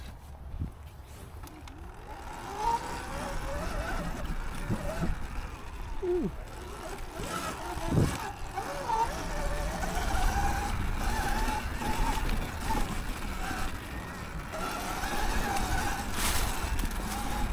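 Surron electric pit bike running WIG Racing Z Series tires on a sandy pit bike track, a whining motor rising and falling as it rides, with gritty crunching and wind noise, moderately close, and no voices.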